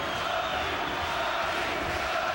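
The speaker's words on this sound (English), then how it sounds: "Crowd loving it in the King's Hall in Belfast." Boxing crowd cheering in the King's Hall, Belfast, a dense, steady roar of many voices filling the arena throughout.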